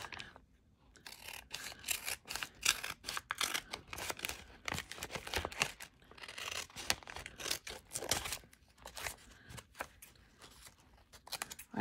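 Paper envelope being cut open with scissors, a long run of close, crisp snipping and rustling bursts, steady and moderately loud throughout with no talking.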